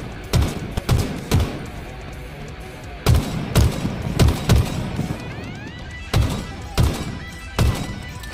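Bandit rifle from leaked Halo Infinite gameplay firing in quick bursts of two or three sharp, punchy shots, with pauses between volleys, loud and close over a low game background.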